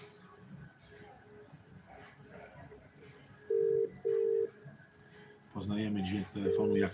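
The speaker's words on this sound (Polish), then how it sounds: "Poznajemy dźwięk telefonu jak w Wielkiej Brytanii, czyż nie?" British-style telephone ringing tone on a WhatsApp call: two short double-burst rings, then another after a pause, clear and fairly loud, with people talking under and between the rings.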